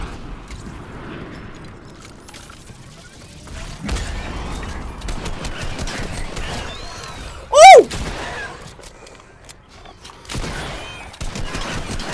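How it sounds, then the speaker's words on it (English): A single loud, sharp sniper rifle shot in Fortnite cracks out about two-thirds through, standing above a bed of quieter game ambience and scattered thumps. "My favorite sniper rifle."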